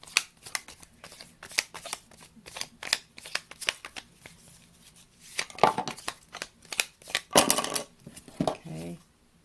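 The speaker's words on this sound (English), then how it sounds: "I'm going to just shuffle and see what falls out" A deck of Monet fine-art tarot cards is shuffled by hand in a steady run of crisp riffles and slaps, close and distinct, with a couple of longer riffs toward the end.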